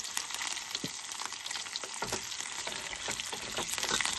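Potatoes with chili fry in a pan at a summer car campsite, a steady close sizzle and crackle with faint stirring scrapes and no talking.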